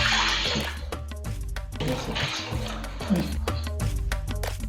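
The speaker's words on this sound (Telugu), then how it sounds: "ఇప్పుడు అదే ప్యాన్లో 3 కప్పుల నీళ్లను పోస్తున్నాను" Water pours and splashes into a pan in uneven bursts, with clattering knocks and brief pauses between pours.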